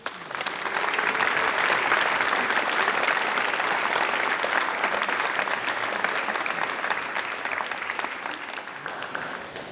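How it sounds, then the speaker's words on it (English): Sustained audience applause at a National Honor Society and National Technical Honor Society induction ceremony, a dense, even clapping that swells quickly, holds steady and slowly tapers off. "Please join me in thanking them with a round of applause."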